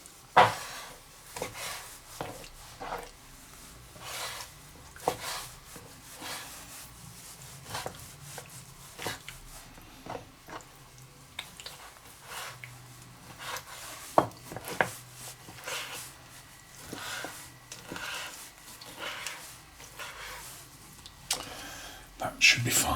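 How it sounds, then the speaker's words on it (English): Kitchen scissors snipping raw chicken into small bite-sized pieces before cooking a chicken and sweet potato curry, giving a steady run of faint, close clicks and cuts with some light handling noise. "a pair of scissors just goes through these no problem at all"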